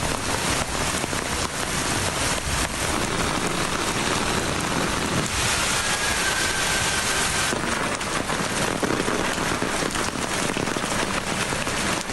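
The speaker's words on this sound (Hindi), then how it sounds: "मूसलाधार बारिश ने लाहौर की सड़कें तालाब बना दी" Torrential rain pours down on the flooded streets of Lahore, a loud, dense, unbroken hiss and patter of heavy downpour that holds steady for the whole stretch.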